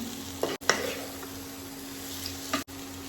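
Vegetables being stirred into cooked masala in a pan, with a soft steady sizzle and a few scraping strokes, close and fairly quiet, broken by two abrupt dropouts.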